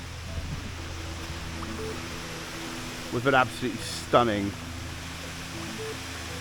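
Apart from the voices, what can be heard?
waterfall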